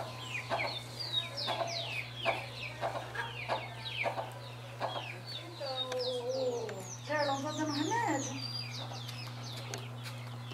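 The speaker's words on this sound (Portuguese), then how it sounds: "Aquele galo lá, gente, que eu tô filmando" Chickens cluck and a rooster calls in a farmyard on a small rural smallholding, with many short, repeated calls of varying loudness close by, over a steady low hum.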